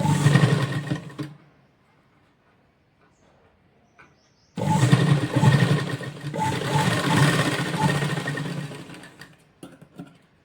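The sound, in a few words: sewing machine stitching a lehenga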